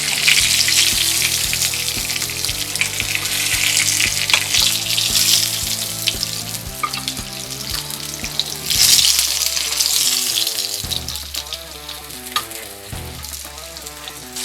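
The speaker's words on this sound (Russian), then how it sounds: "начинаем жарить вторую партию карасей" Crucian carp sizzle and crackle in a frying pan, a steady loud frying hiss running the whole time, with clinks and stirring noises and a tonal musical bed underneath.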